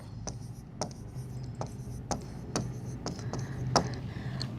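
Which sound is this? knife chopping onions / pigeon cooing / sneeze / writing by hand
writing by hand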